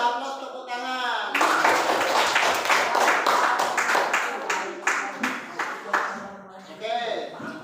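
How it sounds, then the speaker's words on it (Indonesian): A classroom of students applauds after a volleyball lesson, a dense burst of many hands clapping that runs for several seconds and then thins into scattered claps, with a voice heard briefly before it starts. "Kasih aplaus, tepuk tangan."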